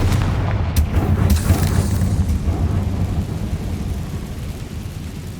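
A Confringo spell blast in Hogwarts Legacy bursts as a loud, deep boom that rolls on as a sustained rumble, with a brief sharper crack near the start and no speech.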